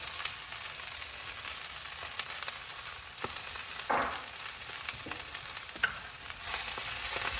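Green onion and bean sprouts stir-fried in a hot pan for chicken noodles, a steady close sizzle with scattered scraping and tossing clatters from the utensil.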